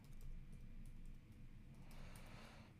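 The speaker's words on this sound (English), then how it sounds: "we want to type in a promo code for Philosophy" Faint computer keyboard typing while a promo code is entered into a web browser, soft scattered clicks in a quiet room with no voices.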